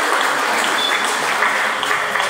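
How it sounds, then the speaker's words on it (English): Steady audience applause filling a hall during a municipal state-of-the-address, dense clapping from many hands held at an even level throughout. "let's clap our hands for this"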